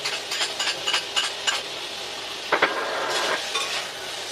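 Ginger, garlic, onion and black beans sizzle in a hot pan for braised pork, with steady frying hiss broken by scraping, clinking stirs of a utensil.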